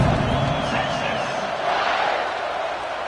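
Football stadium crowd roaring steadily after a touchdown drive against Oregon, a dense, sustained wall of cheering and shouting from thousands of fans that holds at an even level throughout.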